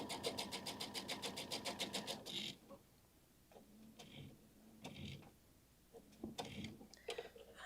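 Sewing machine stitching a quarter-inch seam in Tilda fabric, a fast steady rhythmic whir for about two seconds, then stopping, followed by quiet handling clicks and rustles nearby.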